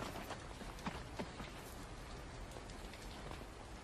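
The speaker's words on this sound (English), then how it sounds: "Picnic in the rain." Steady rain falls outdoors during a picnic, a broad continuous hiss with scattered louder drops, alone with no talk.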